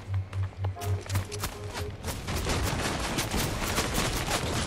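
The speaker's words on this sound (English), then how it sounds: "Lots of people are shooting at me." Rapid gunfire crackles in a video game, first as a few spaced bursts of shots and then as a dense, continuous stream of overlapping shots, fairly close and loud.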